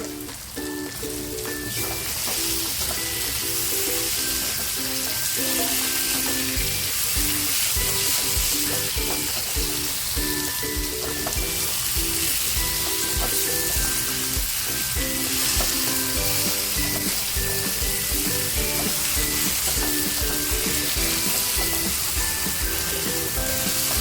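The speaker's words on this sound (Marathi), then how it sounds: "ते बोंबील टाकते आणि ह्या तेलामध्ये छान फ्राय करून घेते" Dried Bombay duck fries in oil with spice masala in a pan, a loud, dense, continuous sizzle close up with occasional stirring scrapes throughout, and no voices.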